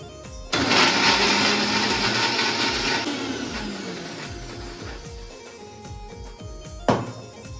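A kitchen mixer grinder whirs loudly for about six seconds, grinding onion and coriander leaves into a paste. Its pitch sags slightly as the load thickens, then it cuts off with a sharp clunk near the end.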